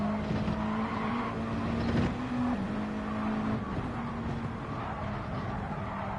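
A race car in a NASCAR racing video game at Watkins Glen holds a loud, steady drone, with quick pitch shifts as it changes gear.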